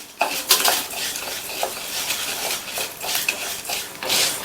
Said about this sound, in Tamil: அதில் 1/4 கப் கொள்ளு சேர்த்து மிதமான தீயில வச்சு இந்த கொள்ளு நல்ல கலர் மாதிரி வர வரைக்கும் வறுத்துக்கணும்